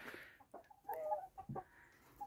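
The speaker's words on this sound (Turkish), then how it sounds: "bunlar bizim keratalar, horozlar, tavuklar." Chickens and roosters on a village farm cluck in short, scattered calls, a few close bursts mixed with softer background clucks, with no talking.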